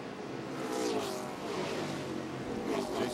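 NASCAR stock cars race at the Toyota All Star Showdown, engines roaring and revving as cars sweep past at moderate distance, rising and falling in a few passes.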